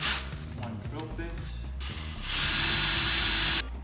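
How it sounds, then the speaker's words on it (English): Power drill boring new holes for mounting a bumper on a Jeep Wrangler, first a loose grinding rattle with clanking under it, then a louder steady high whir close by before stopping. "it will be easier just to drill at least 1 or 2 new ones"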